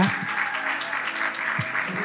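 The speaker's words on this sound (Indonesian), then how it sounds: "Jadi mau gak kita sekali kasih tepuk tangan 1 menit untuk semua yang melayani ya." A church congregation applauds its ministry volunteers with steady, dense clapping that fills the room, and a voice briefly rises over it near the start and again later.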